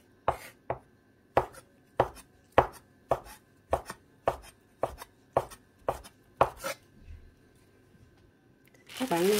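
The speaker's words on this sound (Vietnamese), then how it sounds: "Sau đó mình sẽ lấy cái nấm hương này mình cắt nha, mỏng ra nha các bạn" A knife thinly slices shiitake mushrooms on a cutting board in about a dozen crisp, evenly spaced chops, followed by a brief rustle at the end.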